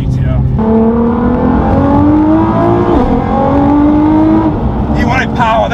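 A Nissan GT-R R35 tuned to around 1,000 horsepower revs hard under acceleration, engine pitch climbing through several gear changes in loud, close rising sweeps, with a brief squeal near the end.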